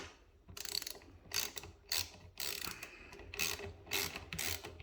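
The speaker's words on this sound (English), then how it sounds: "And all you're doing is tightening the bolt." Close, fairly quiet ratcheting from a 10mm socket ratchet tightening a motorcycle mirror bolt on a 2021 MT-09, the pawl clicking in about seven short bursts with small pauses between strokes.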